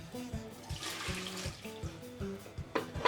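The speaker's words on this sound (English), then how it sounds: "Pour in your water" Water is poured into a cooking pot holding a steamer basket of purple and orange carrots, a short uneven splashing and gurgling heard up close and fairly quiet.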